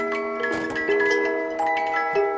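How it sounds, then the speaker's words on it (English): A steady, dense musical sound effect used when opening a box of loose Pokemon card packs, with sustained tones and a faint ticking-clock rhythm running throughout at an even, moderate level with no speech. "I would use the mystery sound effect,"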